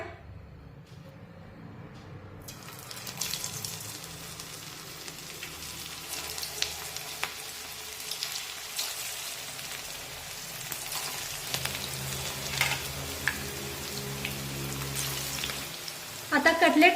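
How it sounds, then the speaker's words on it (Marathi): Cabbage cutlets frying in oil over a medium flame, a continuous close sizzle and crackle with a brief louder burst at the end. "मध्यम आशेवर दोन्ही बाजूने कटलेट छान सोनेरी रंगावर तळून घेऊया"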